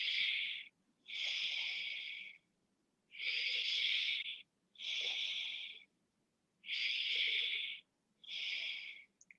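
Slow, deliberate breaths during a guided breathing exercise, six long airy exhales and inhales in a steady rhythm with short pauses between, close and fairly loud with no talking.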